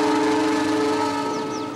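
A locomotive horn sounds from the cab, loud and close, as one sustained chord-like blast that holds steady and then begins to fade near the end.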